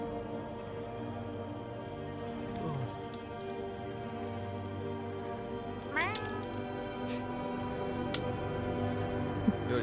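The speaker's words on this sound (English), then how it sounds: "I hear a meow." A cat meows a few times in a quiet room, short rising cries at a moderate distance over a steady low hum, with no talking.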